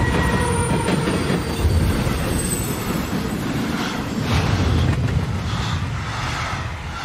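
A train rumbles loud and continuous in the Beyond Two Souls video game, with heavy low clatter and faint squealing wheels throughout, no speech over it.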